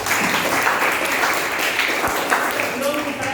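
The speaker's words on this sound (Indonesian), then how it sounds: "Tepuk tangan buat kita semuanya." A classroom of students applauds during a teaching practice lesson, a dense burst of clapping mixed with voices that holds at a steady level throughout.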